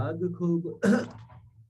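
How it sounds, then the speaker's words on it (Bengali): A cough captured on a recorded voice track: a short voiced throat sound, then one sharp, close cough burst that fades out quickly. "এখানে আমাদের কাশি রেকর্ড হয়েছে"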